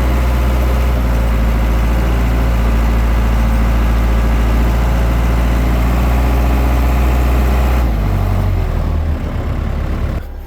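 A Peterbilt semi truck pulling a lumber trailer rumbles loud and close, its deep diesel engine droning steadily, then the pitch dips near the end.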